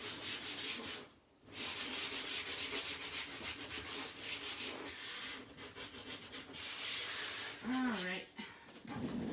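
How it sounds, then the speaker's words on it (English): The corners of a chalk craft piece are sanded by hand, giving a continuous close rubbing scrape in rhythmic strokes with a brief pause near the start, while someone talks and a dog whimpers faintly near the end. "I like to have the corners a little bit more sanded than the sides if I need to."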